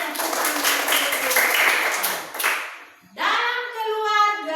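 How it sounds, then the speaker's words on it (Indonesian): A classroom of schoolchildren breaks into rhythmic, patterned hand clapping for about three seconds, loud and close, followed by a voice speaking. "Iya, tepuk tangan dulu."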